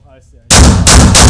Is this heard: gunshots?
yes